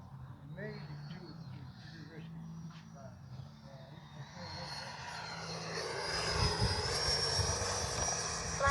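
An FMS Integral 80mm RC jet passing overhead, its turbine whine rising into a loud, bright rushing roar as it comes closer, with someone talking over the engine during the pass.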